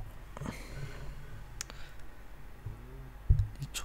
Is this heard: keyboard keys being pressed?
yes